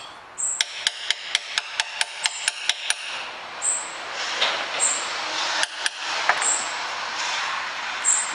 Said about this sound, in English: If you hit them nice and softly, a metal hammer really isn't going to be a problem.